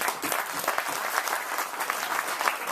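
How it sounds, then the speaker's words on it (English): Audience applause for a hackathon team at a business innovation jam, a steady wash of many hands clapping at moderate volume throughout, with no talking over it. "So that's really applause here."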